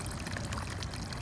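Pond water from a koi pond pours out of a flower pot into an aquaponics grow bed, a steady close splashing stream with no breaks.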